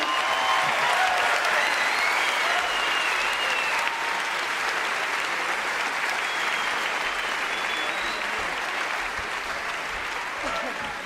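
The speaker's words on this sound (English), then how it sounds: "Akmal, round of applause." Dense crowd applause for comedian Akmal at the Cracker Gala comedy show, loud and steady from start to finish with a faint voice briefly audible under the clapping.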